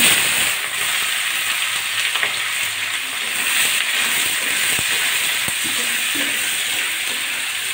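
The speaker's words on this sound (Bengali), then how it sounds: "এবার এই যে রসুন আর পেঁয়াজ কুচিগুলো দিয়ে দিচ্ছি" Chopped garlic and onion sizzle steadily in hot oil seasoned with bay leaf and black cumin, a loud continuous frying hiss with occasional stirring clicks, no voices.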